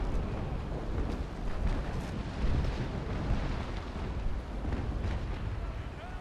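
Ship cannons fire during a naval battle between sailing frigates in the game Naval Action, heard as a dense rumbling roar of distant booms that swells and fades without clear separate shots.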